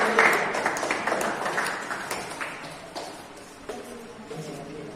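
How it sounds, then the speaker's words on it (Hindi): Applause at a school farewell and prize-giving ceremony at a gurukul, a dense wash of clapping from a crowd, loudest at the start and gradually thinning out over several seconds. "जोरदार तालियां।"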